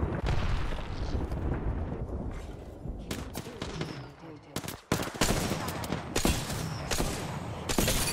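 Incoming bomb blasts in the video game Apex Legends go off as several sharp, loud bursts among dense gunfire and game noise, with a voice speaking over parts of it.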